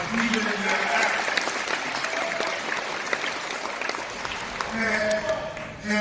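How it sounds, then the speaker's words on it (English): Sustained audience applause at an NAACP convention, a steady, full round of clapping from a crowd that continues throughout with brief voices mixed in. "Give them a round of applause, even in their absence."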